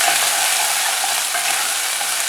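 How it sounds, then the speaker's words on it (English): Crushed ginger, garlic and green chilli sizzle steadily in hot oil in a pan for dal fry, a loud, dense, continuous hiss with no talking. "So I'm going to fry this for about few seconds."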